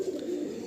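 Pigeons of an original bloodline loft cooing close by, one soft continuous low throaty coo with a faint background hiss.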